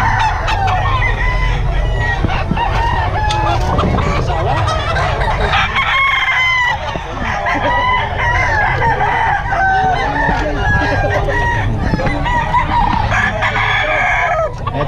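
Roosters crow repeatedly at close range amid frequent clucking from a group of chickens, a busy, overlapping barnyard chorus that continues loudly throughout, with some voices in the background.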